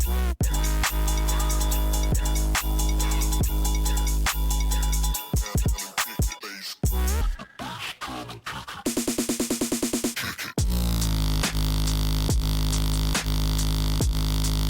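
Loud, distorted electronic dubstep 'bass cannon' bass throbbing heavily, with abrupt cuts and stuttering chopped bursts before the massive drone returns.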